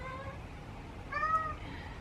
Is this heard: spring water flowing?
no